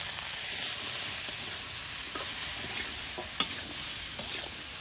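Steady frying sizzle with occasional soft clinks of stirring in a pan, fairly quiet and continuous throughout.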